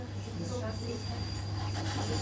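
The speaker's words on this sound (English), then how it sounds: "And now we've got the train sounds." Train sounds play as a steady rumble with a low hum and faint hiss, moderately loud and continuous for a couple of seconds.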